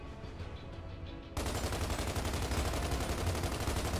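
Gears of War 2 gunfire, a quieter stretch followed by a sudden loud burst of sustained automatic fire that rattles on continuously to the end.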